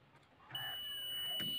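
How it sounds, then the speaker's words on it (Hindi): A multimeter on continuity test gives a steady electronic beep that starts about half a second in and holds to the end, checking a part during a 12-inch subwoofer DJ speaker repair. "मल्टीमीटर जो है बीप की साउंड देगा, यानी कि ये ओके है"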